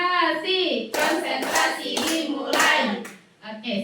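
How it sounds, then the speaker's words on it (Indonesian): A classroom group claps a concentration pattern in rhythmic bursts of hand claps, loud and close, with voices chanting along at the start. "Oke, konsentrasi ya, tepuk konsentrasi."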